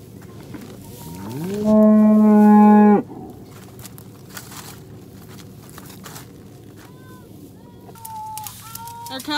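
A cow lets out one loud, drawn-out moo close by, followed by quieter farmyard sounds and a rooster's distant crowing near the end.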